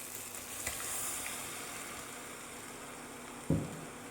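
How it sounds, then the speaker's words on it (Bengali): Boiled vegetables dropped into sizzling pav bhaji masala in a pan: a soft steady sizzle and hiss, with a couple of brief thuds as the vegetables go in. "এই পর্যায়ে আমরা দিয়ে দেবো সেদ্ধ করে রাখা সবজিগুলো।"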